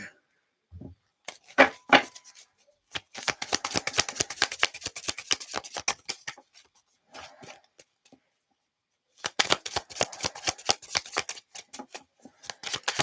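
Tarot cards being shuffled by hand in repeated bursts of quick, crisp riffling and snapping, broken by short pauses, close and fairly quiet with no talking.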